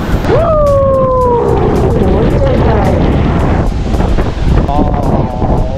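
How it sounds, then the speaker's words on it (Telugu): Strong night wind at Marina Beach in Chennai buffets the microphone with a loud, constant rumbling roar, joined early on by a brief rising whistle-like tone. "సో ఇప్పుడైతే అంటే గాలి మాత్రం భీమచ్చంగా ఘోరంగా వస్తుంది"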